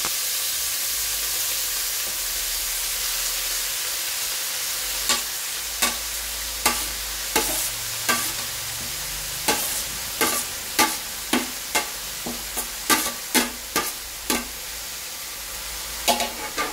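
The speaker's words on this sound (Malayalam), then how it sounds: "കടുക് പൊട്ടി വന്നിട്ടുണ്ട്, ഈ കുറച്ച് ചേർത്തെടുക്കുക. കുറച്ച് ചില്ലി ഫ്ലക്സ് ഇട്ട് കൊടുക്കാനുണ്ട്" Mustard seeds splutter in hot oil with chilli flakes added, over a constant sizzle; sharp pops start sparse and come in a quick irregular run, loud and close, with a brief stirring scrape in between and no talk.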